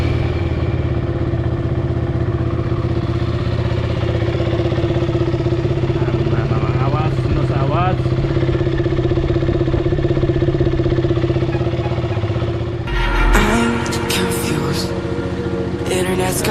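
A KTM Duke motorcycle engine runs steadily and close by for the whole stretch, a constant low throb with a brief shift near the end, while someone talks over it.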